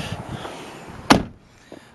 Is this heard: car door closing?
yes